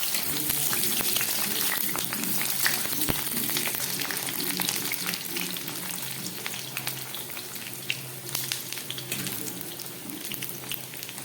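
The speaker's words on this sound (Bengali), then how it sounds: "নুন দিয়ে আলুগুলোকে আমি খুব ভালো করে ভেজে নিচ্ছি।" Potato pieces fry in mustard oil in a wok with salt added, giving a steady, close, dense crackling sizzle that runs without pause for the whole stretch. No one speaks.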